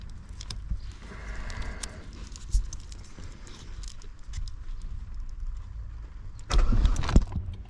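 A hotwired Vauxhall Astra saloon in a garage, with scattered clicks and rattles from the ignition area, then a loud burst near the end as the engine cranks and catches.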